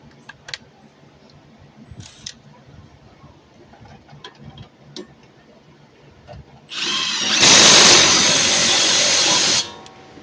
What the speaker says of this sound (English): So let's get that going, and we're going to tighten those two bolts.